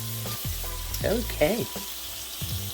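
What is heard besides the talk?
steak for cheesesteak hoagies frying in pan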